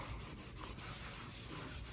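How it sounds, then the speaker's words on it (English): A plaster patch on drywall is wet-sanded in a circular motion, making soft, continuous rubbing and scraping with a gentle rhythmic swish, quiet and close with no talking. "Since circular wet sanding takes less of the plaster off."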